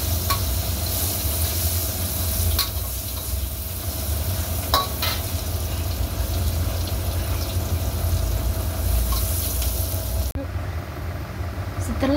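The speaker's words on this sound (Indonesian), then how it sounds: "Goreng bawang merahnya," Shallots frying in a pan while being stirred for an urap spice paste, a steady close sizzle with occasional scraping clicks throughout.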